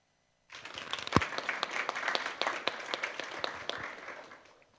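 A small conference crowd bursts into applause after a closing invitation to ACM VRST, a brisk patter of individual claps that starts abruptly, holds steady and tapers off at the end.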